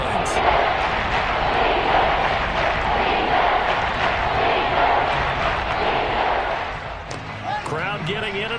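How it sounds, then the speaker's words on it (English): Dense roar of a football stadium crowd cheering continuously at a loud, even level, easing slightly near the end. "Crowd getting in it a bit already."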